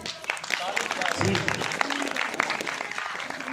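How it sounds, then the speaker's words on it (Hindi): A church congregation claps together at a Christmas service, a dense burst of hands mixed with crowd voices and a speaking voice over it, filling the short stretch fairly loudly. "यानी 11 से पहले ताली बजाइए।"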